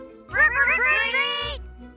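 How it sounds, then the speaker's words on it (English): A cat lets out one drawn-out, wavering meow lasting over a second, close and fairly loud, with a low hum underneath and no speech over it. "Keep your scaredy cats company."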